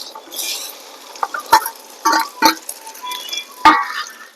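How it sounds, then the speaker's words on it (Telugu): Okra (lady's finger) being stir-fried in a pan, with a soft sizzle and a spatula scraping and clinking against the metal in irregular strokes, close and moderately loud. "బెండకాయలు ఇట్లా వేయించుకున్నాం అనుకో జిగురు లేకుండా ఉంటుంది"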